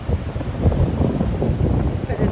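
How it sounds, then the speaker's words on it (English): Strong wind blows outdoors by the water on a late afternoon, buffeting the microphone in a continuous low, rough roar that stays loud and close throughout. "It's after 4 and it is windy"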